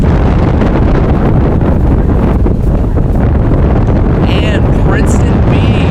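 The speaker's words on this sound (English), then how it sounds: "As the winds pick up for a final time." Strong wind buffeting the microphone during an open women's collegiate rowing race on the water, a loud continuous roar throughout with faint higher tones near the end.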